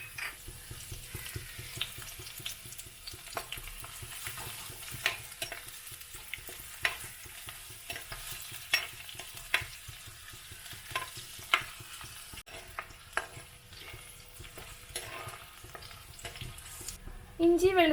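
Crushed ginger, garlic and curry leaves frying in hot coconut oil, a faint continuous sizzle broken by frequent spoon stirs and scrapes against the pan, with a louder clatter at the very end.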